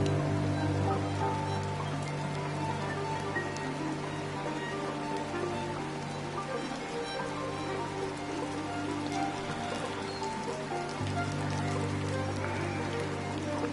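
Steady rain falls in the video game The Midnight Walk, a dense, continuous patter and hiss of drops that runs unbroken throughout over a low droning hum.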